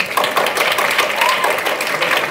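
Dense audience applause at a school spring choir and band concert, many hands clapping continuously and loudly in a crowded room, with voices mixed into the sound.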